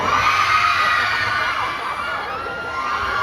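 A crowd at a live Kapuso fans day event in Cebu cheers, shrieks and shouts for Team David in a sustained, loud, dense roar of many voices that holds steady throughout.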